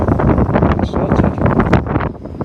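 Strong coastal wind buffets the microphone during a shore fishing session, loud gusty rumbling and roaring in uneven surges that fill the whole moment without talk.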